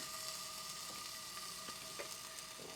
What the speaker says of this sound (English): I can hear a little sizzle